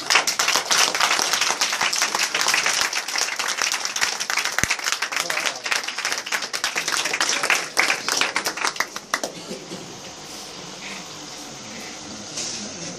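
A church congregation applauding and cheering for Jesus, dense loud clapping from a crowd for about nine seconds before fading to a low murmur of voices.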